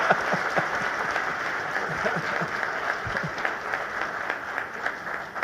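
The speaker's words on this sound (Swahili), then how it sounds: "let's put our hands together tupige makofi mengi sana" A crowd applauds at a hotel launch ceremony in Tanzania, with sustained dense clapping and a few louder individual claps standing out near the front.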